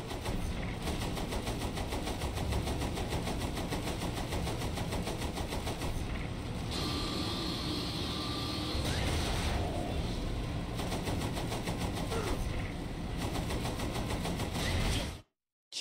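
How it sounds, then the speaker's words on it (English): Rapid, continuous machine gun fire from a tank in a PC video game, a dense mechanical rattle sustained for about fifteen seconds at a steady level before cutting off abruptly. "Use the machine gun then, not the cannon."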